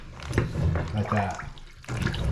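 Toilet water gurgling and draining down the trap after plunging, an uneven sloshing rush close by, with a voice talking over part of it before a brief lull and renewed flow.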